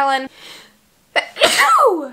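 One sharp, loud sneeze bursts out near the middle, preceded by a brief voiced sound and followed by someone speaking.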